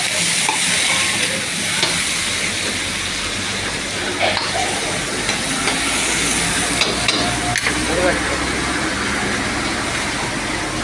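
Liver frying in a pan and being stirred, a loud, continuous close-up sizzle with scraping and clattering strokes of the spoon running throughout, no voices over it.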